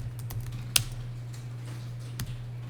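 Several soft key taps on a computer keyboard, including a press of the F2 key during accounting software work, come as sparse, close, quiet clicks over a steady low electrical hum.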